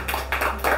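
A few hand claps ring out close by at a birthday gathering, three quick, irregular bursts over a steady low electrical hum.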